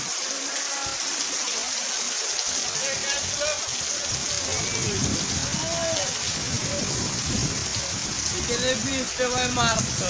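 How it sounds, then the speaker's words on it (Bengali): Heavy rain pours down in Chittagong amid flooding, a dense steady hiss of drops splashing on surfaces, with someone talking over it. "কি পরিমাণ বৃষ্টি নামতে আছে"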